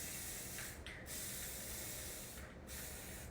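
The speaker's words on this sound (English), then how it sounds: "I'm just going to spray paint this" A spray paint can hisses in long, steady bursts with two brief pauses, close and continuous, with no one talking.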